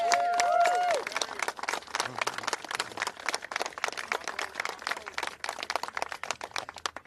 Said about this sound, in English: would you give the Leach family a round of applause?